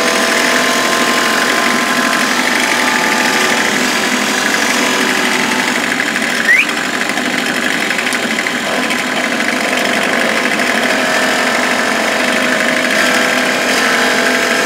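A wood lathe turning a wooden pen blank under a roughing gouge gives a steady, loud mechanical drone with a dense hiss and a brief chirp partway through, continuous and without speech.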